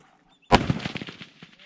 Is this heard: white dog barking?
no